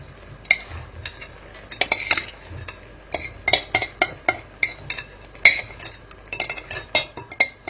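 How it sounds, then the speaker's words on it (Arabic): A spoon clinks and scrapes against a metal pot while stirring a thick Yemeni harissa mixture of peanuts and milk powder, giving sharp irregular knocks close by with no talking. "ثم نبدأ بالتحريك"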